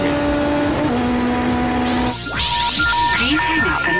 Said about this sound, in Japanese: スーパー耐久レース第2戦、富士スピードウェイに潜入。